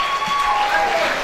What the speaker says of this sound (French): Quand c'est bon, on acclame, s'il vous plaît.